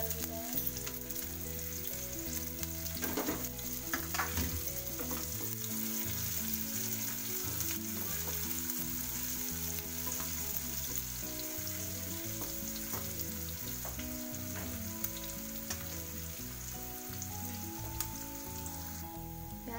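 Chopped onions frying in hot oil in a pan, a dense continuous crackling sizzle with a few stirring clinks, heard close and steady throughout under soft background music, no voices.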